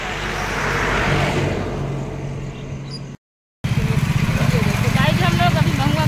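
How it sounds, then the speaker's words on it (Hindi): Motor vehicles pass along a roadside near a village market, a steady engine and tire roar that builds and stays loud, broken by a brief silent gap before traffic noise resumes with voices in the background. "देखिए गाड़ी जा रहे हैं इधर"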